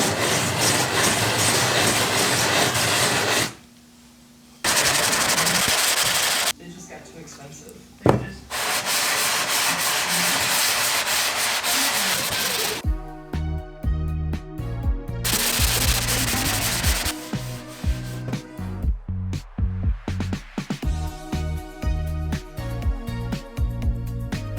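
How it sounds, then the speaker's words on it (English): Someone hand-sands a damaged cylinder head in a figure-8 pattern with fine-grit paper, producing loud, continuous rasping strokes interrupted by brief pauses, then a series of shorter, choppier scrubbing passes. "So just sanding back and forth in that figure 8 pattern."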